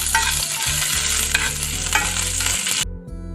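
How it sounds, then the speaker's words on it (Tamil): Cashews, curry leaves and two green chillies frying lightly in ghee for rava pongal make a bright, close sizzle with stirring, layered over background music before the sound cuts off abruptly. "கொஞ்சமாக முந்திரி பருப்பு, கொஞ்சமாக கருவேப்பிலை, அப்புறம் 2 பச்சை மிளகாய் இதை சேர்த்துட்டு லைட்டாக வறுத்துக்கலாம்"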